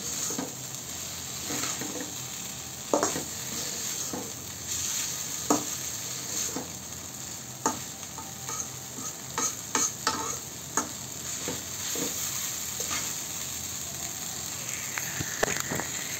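Sauced noodles are stirred and fried in a pan, with a steady sizzle under repeated scraping and clacking strokes of the utensil, close and moderately loud, without talk.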